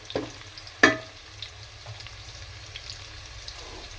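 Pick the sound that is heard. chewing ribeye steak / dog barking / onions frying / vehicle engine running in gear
onions frying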